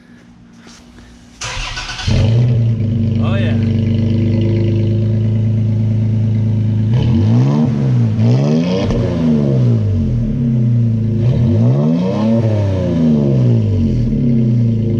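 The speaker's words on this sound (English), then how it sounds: "You definitely hear a lot more of that engine sound through the exhaust." A 3.5-liter Toyota Tacoma pickup with an MBRP 3-inch cat-back single side exit exhaust cranks and fires up, settling into a loud, throaty idle, then revs up and down several times through a deep exhaust; a voice briefly reacts.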